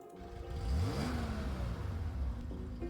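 A video game car engine revs up in a smooth, rising sweep, then settles into a steady droning idle, fairly close and loud with no talking over it.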